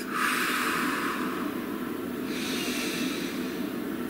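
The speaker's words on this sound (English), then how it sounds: "Please take a nice deep breath" A single slow, deep breath, drawn in as a loud, airy inhale and then let out in a long, softer exhale, close to the microphone with no talking.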